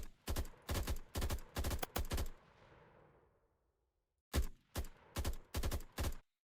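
Repeated bursts of automatic gunfire in an Unreal Engine 5 zombies shooter, firing in short loud bursts that keep going, then a fading tail, a brief silence and another string of bursts.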